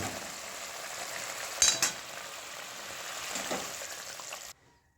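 Hilsa fish fry in mustard oil in a pan, giving a steady soft sizzle with a couple of sharp metallic clinks early on, before the sound stops abruptly near the end.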